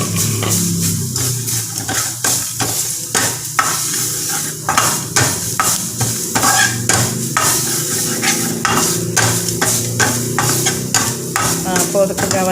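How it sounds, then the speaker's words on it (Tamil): Grated coconut with cumin, fennel and pepper dry-roasts in a pan, with a spoon scraping and stirring in a quick, repeated rhythm over a faint sizzle, close and fairly loud. "அப்படியே நான் தேங்காய் பூ போட்டுக்கிறேன்."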